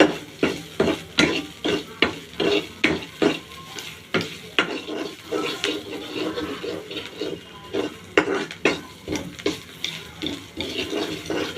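An onion mixture sautés with salt in a pan, with a rhythmic run of spatula scrapes and clinks against the metal over a soft sizzle, close up.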